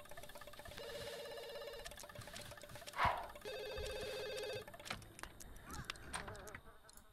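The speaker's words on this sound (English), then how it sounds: "And then the phone's ringing." A telephone rings in the video game The Sims 2, two buzzy electronic ring bursts separated by a short gap, with a sharp clunk between them and faint game sounds around, no talking.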